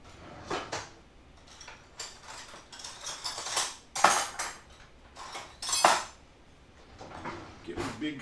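A big metal spoon stirring shakshuka in a pan, scraping and clinking against the metal in irregular bursts, with a few louder knocks, up close, while a voice speaks at times.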